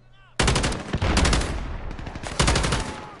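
Loud bursts of automatic gunfire from a weapon with heavy recoil in Call of Duty: Modern Warfare's Gunfight mode, two long sustained volleys close up, the first starting abruptly after a short quiet lead-in.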